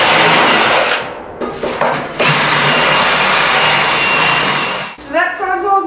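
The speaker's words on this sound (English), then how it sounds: "I'm just going to come back in now with our wire wheel and try and clean up just a little bit of the edge right there" A wire wheel grinding at the edge of a new floor pan on a VW Baja Bug, a loud continuous whirring abrasive roar that stops briefly, restarts and cuts off near the end, then a voice speaks.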